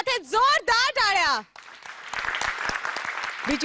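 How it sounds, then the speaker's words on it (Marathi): Audience applause breaks out at a Marathi stage show right after sung lines end, a steady crowd clapping that continues to the close. "क्या बात है, जोरदार टाळ्या"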